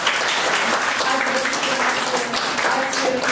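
Audience applause in a youth centre hall in Focșani during a motivational talk show, a dense steady wash of many hands clapping at even loudness for the whole stretch, with faint voices mixed in.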